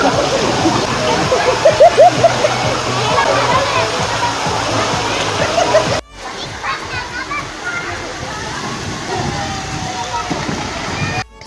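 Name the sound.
water pouring down at a water park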